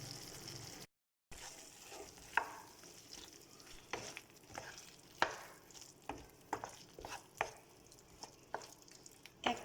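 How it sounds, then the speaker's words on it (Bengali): Spiced potatoes for dum aloo, seasoned with garam masala, get stirred in a pan over low heat: a quiet, soft sizzle runs underneath, broken by a regular series of light scraping spoon strokes. "1 মিনিটের মতন লো হিটে সব কিছু নেড়ে ছেড়ে দিচ্ছি"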